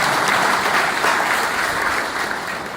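A church congregation claps together in loud, dense, sustained applause that fills the room and tapers slightly toward the end.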